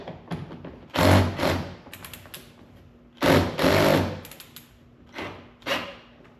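A power driver sends self-tapping screws into plastic fender flares on a 2023 Can-Am Defender side-by-side, giving several short whirring bursts of varying length with quiet gaps between them, heard up close.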